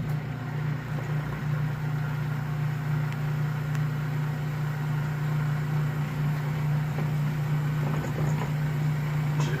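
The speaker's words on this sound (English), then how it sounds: "Butter in, and then blend her up." Steady motor hum of a blender mixing butter and icing sugar for caramel coconut squares, a constant mid-level drone running unbroken and fairly quiet from start to finish.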